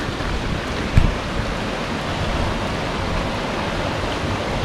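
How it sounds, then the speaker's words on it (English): A small river runs with little falls along a Highland trail between Ardgour and Glenfinnan, giving a steady, close, broadband rush of flowing water throughout, with no talking. "This river along here has got lots of lovely wee interesting bits in it."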